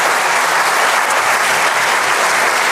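Over a thousand people in a synagogue sanctuary applauding and cheering, a loud, dense, continuous wash of clapping close around, with no single voice standing out.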